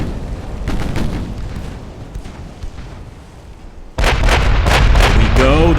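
Battleship guns firing in the naval video game Ultimate Admiral Dreadnoughts, rumbling booms that give way to a sudden, much louder barrage of overlapping heavy blasts and roaring.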